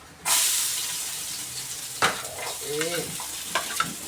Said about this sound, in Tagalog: Gigisa na natin.